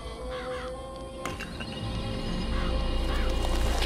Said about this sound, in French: L'appel du corbeau!